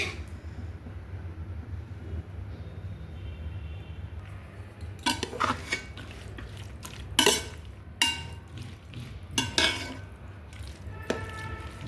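A spoon stirs boiled tamarind into a broad bean pickle, giving faint scraping and soft wet clicks against the bowl that become more frequent and louder in the second half, over a low background hum.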